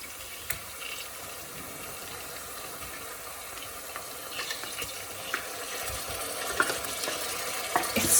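Tuna is tipped into a pan of cooked onion and stirred, giving a low continuous sizzle and hiss with soft scraping and a few light knocks, close by and without speech.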